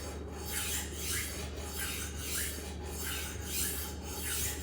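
Knife edge grinding against a HORL 2 diamond sharpening wheel on Takamura R2/SG2 steel, a steady close rasping scrape that swells and fades in regular passes about once a second as the blade is rolled, alone without talk.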